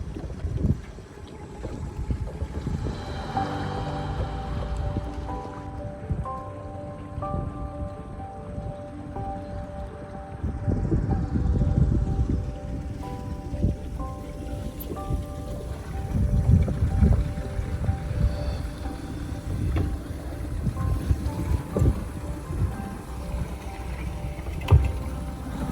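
A sailboat motoring and maneuvering through tight spots off Kekova, Turkey, with a steady outboard engine drone, wind buffeting the microphone and occasional mechanical knocks and clunks.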